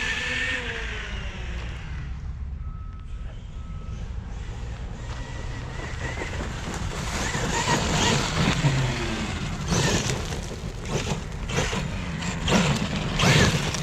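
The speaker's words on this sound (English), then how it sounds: "You'll hear these knobby tires. Listen to the paddles." A Kyosho Foxx VE brushless RC car with knobby paddle tires runs over rough ground, its tires churning and chattering in bursts that grow louder and busier toward the end, with wind buffeting the microphone.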